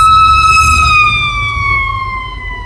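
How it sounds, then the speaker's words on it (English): A loud fire truck siren wails close by, its tone sliding steadily downward as the vehicle passes and begins to fade. "And here comes a fire truck."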